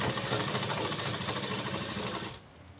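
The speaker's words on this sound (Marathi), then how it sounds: "ह्याच्यावरती शिलाई करून घ्यायचं आहे।" A sewing machine stitches a blouse katori, running at a steady, fast mechanical rhythm close up before stopping abruptly near the end.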